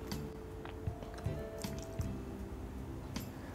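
Chocolate biscuit dough made from leftover broken biscuits being mixed by hand with chopped dry fruits, giving soft, sticky squishing and squelching sounds at a steady close-up pace, with no talking.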